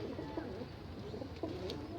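Malwai pigeons in a loft give a low, continuous cooing murmur, faint and a little distant, with several birds overlapping and no distinct voices heard.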